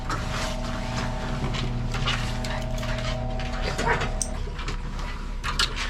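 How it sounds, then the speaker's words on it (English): Dogs in a grooming room pant and whimper nearby, with occasional faint barks over a steady machine hum and some background talking. "My dogs are up front if you hear them."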